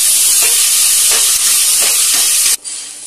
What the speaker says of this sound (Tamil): தக்காளியும் வெங்காயமும் நல்லா ஒரு சேர வதக்கணும்.